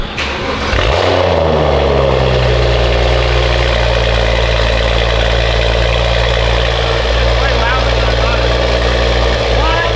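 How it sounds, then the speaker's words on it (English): Car engine cranking and firing up for the first time with a new exhaust, settling into a loud, deep, steady idle with a rich low rumble; someone speaks over it. "All right, she's installed. Time for the first fire up."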